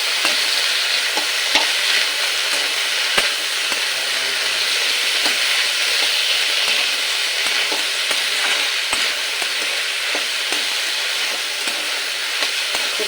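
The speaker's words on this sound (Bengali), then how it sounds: "ডুমুর আর আলুর সাথে আদাটাও ভাজা ভাজা হয়ে যাবে" Diced figs, potatoes and ginger-chili paste fry in oil, making a dense, continuous close sizzle with regular light taps and scrapes of a stirring spoon, and no voices.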